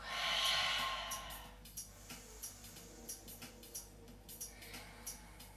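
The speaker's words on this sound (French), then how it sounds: "On respire encore une fois. Une respiration complète." One long breath in a yoga flow, an airy, fairly close inhale or exhale at the start, then faint soft ticks and small rustles at a quiet level.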